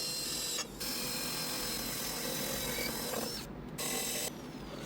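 A drill bores a hole in a frame to take gearbox screws for a toy car motor build, a continuous whirring grind that pauses briefly twice, with no talking.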